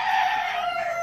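A young Rhodebar rooster crows once, a single sustained, slightly strained call, close and clear with no other sounds around it.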